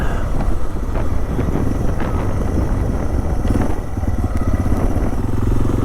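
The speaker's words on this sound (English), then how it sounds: "Bike's still running, so I'm technically not parked." A Yamaha TW200 motorcycle engine idles outdoors on a desert ride, a loud, steady low thrum that runs throughout with a rough, pulsing texture and some wind noise.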